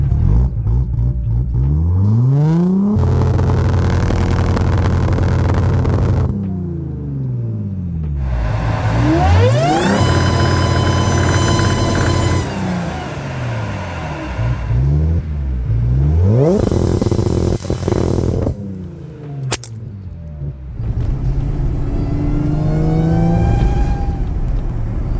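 A car engine is revved hard again and again up to a 3,000 RPM rev limiter. Loud, close pitch sweeps rise and fall in repeated bursts with short lulls between them.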